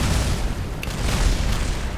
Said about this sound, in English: that wasn't supposed to be the explosion just yet